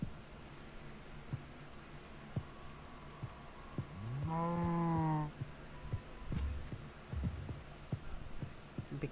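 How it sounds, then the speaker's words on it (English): A cow moos once in the Minecraft OreSpawn mod, a single drawn-out low call standing clearly above a quiet background of game ambience and scattered soft clicks. "We're just forcing this cow to come with us."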